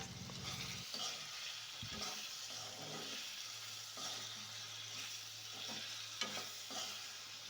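Potatoes and tomatoes fry in a pan for a paneer curry, giving a steady close sizzle with occasional stirring clatter and no talk.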